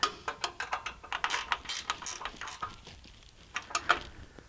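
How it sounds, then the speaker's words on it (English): Ratcheting wrench turning fuel filter water separator fittings on a 6.7L diesel, reached through an access hole: a quick run of close, light clicks in steady bursts, pausing briefly before a final cluster of clicks. "A ratcheting wrench really comes in handy."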